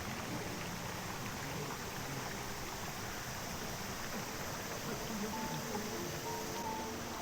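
Steady, even rushing of Munsadong waterfall on Dobongsan pouring over rocks into a mountain valley stream, a constant broad wash of water with no voices.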